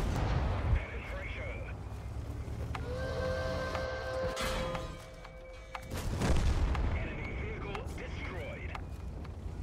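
Semovente tank destroyer in World of Tanks fires, a heavy booming shot followed by a long rolling echo, with game battle noise and chimes around it, loud and close.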